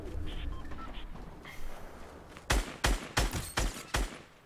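Sniper rifle gunfire from the video game Fortnite: five sharp, loud shots at a steady, slightly uneven rhythm, ringing out after a quieter stretch of game ambience.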